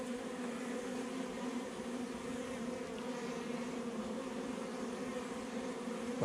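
A dense, steady buzzing of many honey bees flying all around, a continuous droning hum filling the air close by.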